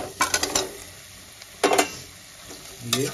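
Fried eggs and potatoes going into masala in a pressure cooker for egg biryani, giving soft sizzling with a few clattering stirs and scrapes in short bursts, close up, with no talking.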